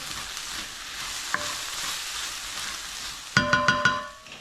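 Sweated vegetables sizzle in a wok and are moved around, a steady frying hiss giving way to a few sharp metallic clanks of the spatula on the pan.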